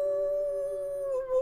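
A single drawn-out dog howl from a horror video game holds one steady tone throughout and bends slightly near the end, loud and close against quiet surroundings.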